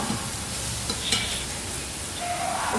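Grated beetroot for thoran sizzles steadily in a pan while a spoon stirs and scrapes through it, giving a close, continuous frying hiss with soft clinks.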